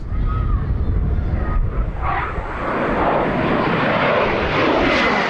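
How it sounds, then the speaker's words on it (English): A SEPECAT Jaguar jet making a slow speed pass at an airshow, nose high: a loud, continuous engine roar with a broad rushing rumble that shifts in tone as the aircraft passes. "down to about 125 knots for the slow speed pass"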